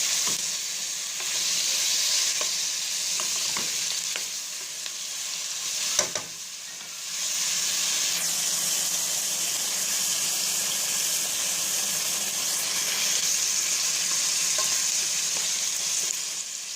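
Onions fry in a pan for a Mderbel dish, a loud, steady close-up sizzle with soft stirring scrapes and one brief dip in the middle, and no voices.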